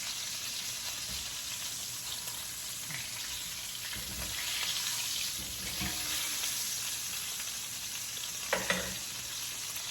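Garlic frying with thyme and rosemary in a home kitchen, a steady close sizzle with occasional stirring scrapes and a brief clatter near the end.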